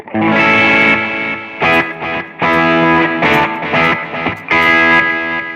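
Distorted electric guitar through a BOSS eBand JS-10 with tremolo off plays loud, sustained chords and short bursts with brief gaps between them, a steady unpulsed tone with no voices.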